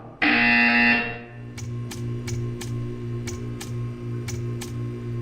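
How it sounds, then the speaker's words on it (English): A loud, harsh buzzer in a Portal video game blares for about a second, then a low hum continues with a series of sharp clicks ticking at irregular intervals. "You will hear a buzzer. When you hear the buzzer, stare at the art."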